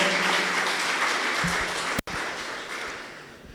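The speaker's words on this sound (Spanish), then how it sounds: "Dale una buena ofrenda de palmas al Señor." A Spanish-speaking church congregation gives the Lord an offering of applause, a full, steady roar of many hands clapping close and loud, with a momentary break partway through.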